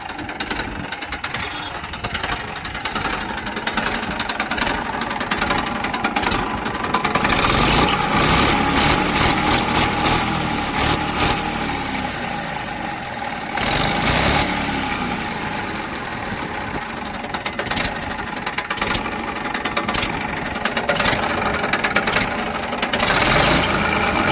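A Massey 1035 tractor engine idles with a steady, knocking chug, the rhythmic clatter rising at times and continuing throughout without talk.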